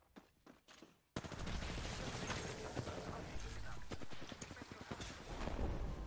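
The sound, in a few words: gunshots in a video game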